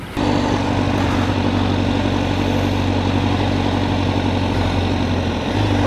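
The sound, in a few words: Honda CBR1000RR-R Fireblade motorcycle engine running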